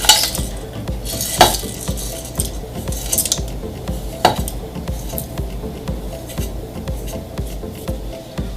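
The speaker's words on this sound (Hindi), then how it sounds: "और 1 चम्मच से हम इसको मिक्स कर लेंगे।" A metal spoon stirs and clinks through biryani spices in a mutton biryani preparation, giving repeated close scraping and tapping against the vessel, with sharper knocks near the start and middle and no talking.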